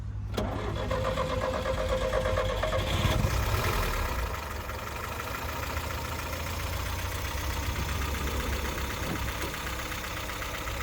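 An old budget car engine cranks briefly and catches, then settles into a steady, even idle that continues throughout.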